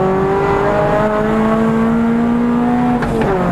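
A drift car's engine winds up hard as it charges up a hill, a loud, close, steadily rising drone that climbs in pitch for several seconds before a brief dip near the end.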